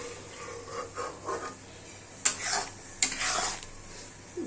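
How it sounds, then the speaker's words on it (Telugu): Spoon stirring paneer butter masala with kasuri methi in a pan, a few soft scraping strokes, then two sharp metallic clinks against the pan, over a faint low hum. "దీన్ని ఒక్కసారి దీంట్లో మిక్స్ అయ్యేలాగా మిక్స్ చేసుకుని ఇంకో రెండు నిమిషాలు ఉంచేసుకుందాము"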